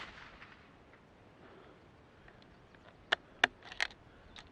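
Several sharp rifle shots from a 53 grain load crack out at a range, three or four spaced reports in the last second and a half after a stretch of quiet background.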